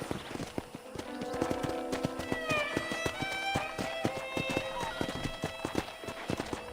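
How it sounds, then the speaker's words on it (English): Steady clip-clop of horse hooves at a walking pace in Red Dead Redemption, with game music and ambient sounds underneath. "let's see if you can still ride a horse"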